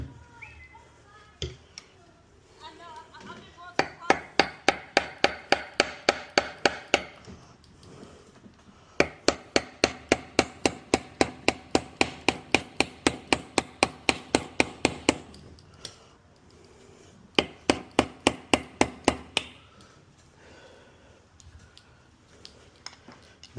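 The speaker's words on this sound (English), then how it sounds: "definitely use some screwdrivers and a hammer." Quick runs of metallic hammer taps on screwdrivers against a 1999 Eclipse GST manual transmission case, loud and close, coming in several rapid bursts with pauses between.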